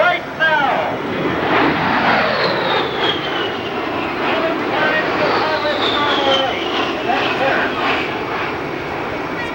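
An A-10 Warthog jet roars through a roughly 7 G turn at a military airshow, a loud, sustained engine rush with shifting whine that sweeps in pitch throughout, while an announcer talks over it.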